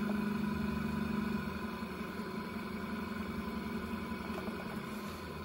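A frequency-controlled electric motor runs steadily and speeds up, giving a continuous mechanical hum with fixed tonal whine layers, moderately loud and close, with no speech.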